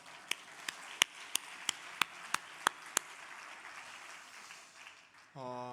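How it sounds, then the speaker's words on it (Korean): Nine or so sharp hand claps in a steady, evenly spaced rhythm at a church worship service, followed by a pause and then a sustained musical tone. "한번 축복의 박수 하겠습니다"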